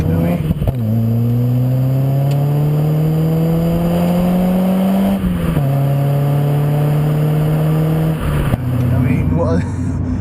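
Renaultsport Clio 182 engine revving through a large aftermarket exhaust, a loud close rising drone that swells, dips briefly, then holds steady before cutting off near the end, with a voice talking over it.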